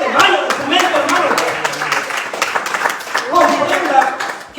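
Church congregation clapping, rhythmic bursts of hand claps under a preacher's voice speaking throughout.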